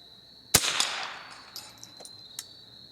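A Remington 241 Speedmaster .22 rifle fires a single sharp, close crack, followed by a few faint metallic clinks and taps.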